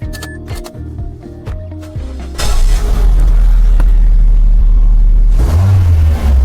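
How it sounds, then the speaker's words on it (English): A Mazda 3 with newly matched keys cranks and fires up after about two seconds of quiet clicking and handling, then settles into a loud, steady engine running close by, with a brief rise in revs near the end. "Okay, the vehicle has been successfully started."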